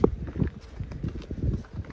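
A horse walks along a hill path toward a forest cattle shed in Nepal, its hooves making a series of close, uneven clip-clop thuds at a slow walking rhythm, with no talking.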